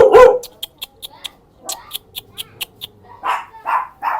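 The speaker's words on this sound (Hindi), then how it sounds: "यहाँ पे इनके जो पालतू कुत्ते हैं वो परेशान हो रहे हैं" Pet dogs bark in a rural Thai tribal village. A rapid string of close, loud barks comes in quick bursts, ending in a few longer, howl-like yelps.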